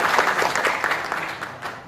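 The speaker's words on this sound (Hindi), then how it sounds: "इस बात के लिए मिली काउंसिल के जिम्मेदारान के लिए एक बार जोरदार तालियां बजानी चाहिए" A brief burst of crowd clapping at a Delhi gathering on the constitutional rights of minorities, fairly close and steady, then easing off within two seconds.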